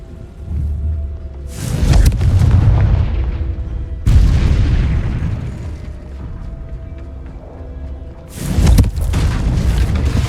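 The Confringo blast spell from a video game goes off in three heavy booming explosions, loud and near, each rolling out into a rumbling decay before the next hit.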